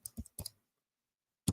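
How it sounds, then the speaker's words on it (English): A few quiet, close clicks from a computer keyboard: a quick cluster of keystrokes, a pause, then one more tap. "God, my typing is brutal."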